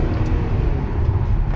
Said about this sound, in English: the engine sounds good for a van